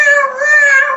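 A single drawn-out, tonal, wavering meow-like cry rings out clearly for about a second, close and loud with no other sounds.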